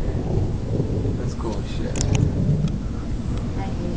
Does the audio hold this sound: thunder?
yes